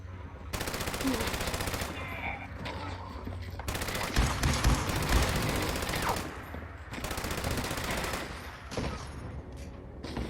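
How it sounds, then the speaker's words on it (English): Sustained automatic gunfire in a Fallout 76 firefight, long rattling bursts broken by brief pauses, loud and close with heavy booming impacts in the middle stretch. "Talon, open fire."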